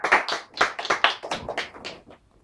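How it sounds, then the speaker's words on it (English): Audience applause for a magician's darts trick with a volunteer at a hotel show in Sandgate: a short burst of close clapping, loud at first and fading out within about two seconds, with no talk over it. "You can get a big applause."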